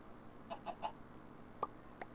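Chickens in the video game Minecraft Sky Factory 3 cluck softly, with three quick clucks followed by two more spaced single clucks, faint and alone.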